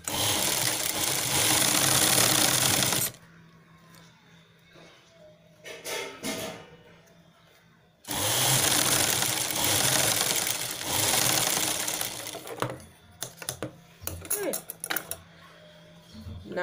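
A sewing machine stitches a velvet purse in two loud bursts separated by quieter stretches with handling clatter and a voice talking.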